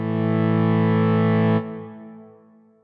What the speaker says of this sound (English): So there's the vibrato off.